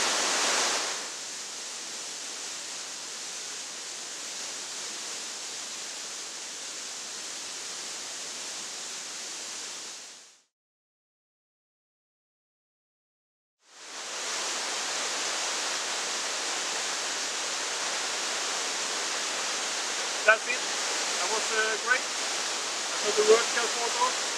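Waterfall in Panama, a steady hissing rush of falling water that cuts out to silence for a few seconds in the middle and then resumes, with faint clicks and taps near the end.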